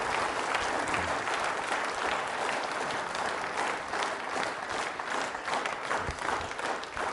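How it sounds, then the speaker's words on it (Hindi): Loud, sustained applause from a quiz show audience of trainee state service officers, dense clapping filling the room steadily from start to finish with no talk over it. "इस संकल्प के लिए तालियां बजाइए जोरदार तरीके से आप।"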